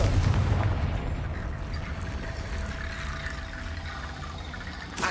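Confringo fire spell blast in Hogwarts Legacy, a deep booming explosion at the start that rolls off into a long rumbling decay and low ambient noise.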